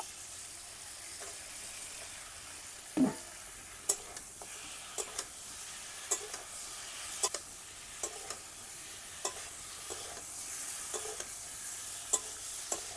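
Rohu fish belly pieces frying in spiced oil with potato and tomato for a Bengali fish curry. A soft, steady sizzle runs throughout, broken by scattered sharp clicks and scrapes of stirring, with no voices.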